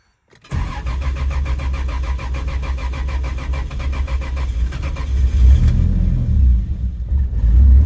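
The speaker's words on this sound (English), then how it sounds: "check out how long this thing takes to start" A Jeep engine cranks slowly and steadily with a rhythmic starter chug for several seconds, then catches and settles into a low, loud rumbling idle.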